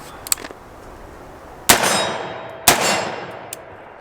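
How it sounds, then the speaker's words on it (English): .308 AR pistol fires two sharp, loud shots at a steel target about 50 yards away, each blast followed by a ringing metallic clang and a decaying tail, with faint clicks before and after. "We're just gonna shoot this here at like 50 yards, TA target steel."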